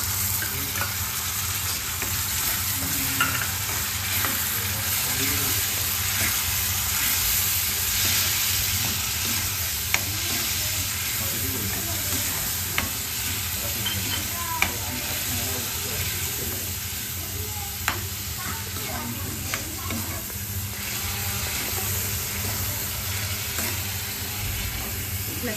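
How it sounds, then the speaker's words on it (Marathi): Tomato paste sizzles steadily with browned onions in a pan for a Kala masala chicken sukka, a constant close frying hiss with occasional spatula scrapes and stirring clicks, no voices. "मी आता बारीक केलेली जी टोमॅटोची पेस्ट आहे ते टाकून घेते आहे."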